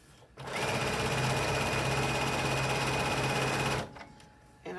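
Sewing machine stitching a fabric strap cut from a dress, running in one steady, loud, close whirring stretch of about three seconds before stopping abruptly.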